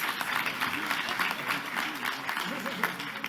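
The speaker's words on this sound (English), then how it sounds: "Let's give them another round of applause while they take their seats." An awards ceremony audience keeps up a round of applause, a continuous roar of clapping, while a voice talks over it.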